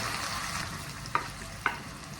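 Taro root frying in hot oil, a steady soft sizzle with two brief clicks of a utensil against the pan, close and quiet, no voices.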